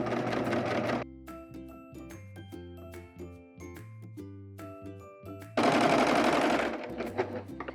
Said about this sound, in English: Again, I'm using the serger